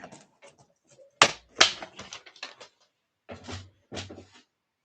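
Scissors cutting paper scraps for scrapbooking, a few sharp close snips and crisp rustles spread across the span with short quiet gaps.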